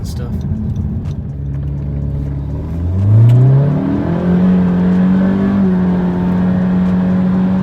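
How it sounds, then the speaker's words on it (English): A car engine revs up sharply as the rear wheels spin, pitch climbing fast, then holds a high steady whine; loud and close, with a voice faintly underneath. "There's no more wheel hop, it's just wheel spin."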